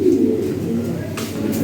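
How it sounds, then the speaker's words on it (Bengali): Lahori Sirazi pigeons coo softly and repeatedly nearby, low throaty calls rolling over a steady background murmur, with a brief rustle near the end. "দেখ অনেক কবুতর আছে"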